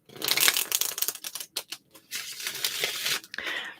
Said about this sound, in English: I'm going to start shuffling them.